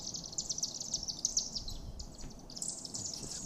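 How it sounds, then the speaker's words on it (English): A chimney swift wheeling overhead above a town, giving rapid high chattering twitters in quick bursts, moderately close over a soft background hiss. "This is the chimney swift."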